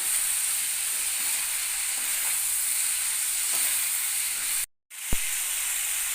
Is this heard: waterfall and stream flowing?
no